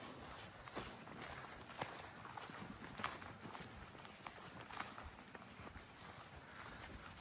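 A pig walks about nearby, her hooves tapping out a loose, uneven run of footsteps over steady background noise, with no talking.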